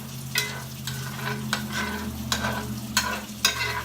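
Eggs cooking in a skillet with spinach and diced tomatoes, Southern-style breakfast, bubbling and sizzling steadily, with a stirring scrape or tap roughly every half second to second close by.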